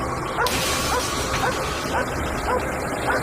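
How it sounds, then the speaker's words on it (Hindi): A dog barks repeatedly at a car during a hunt, several sharp yipping barks spaced about half a second apart over a steady outdoor noise bed, with a sudden crash or thud near the start and no clear speech. "इस कार पर भौंक रही है"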